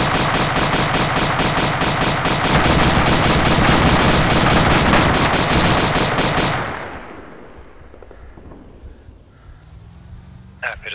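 Rapid automatic gunfire in the video game ArmA 2, a dense loud burst of shots for several seconds that cuts off and gives way to quieter ambience.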